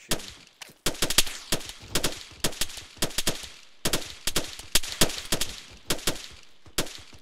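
Gunfire in the Arma military game cracks out in rapid, evenly spaced shots and short bursts, loud and close, running almost continuously with brief pauses between volleys.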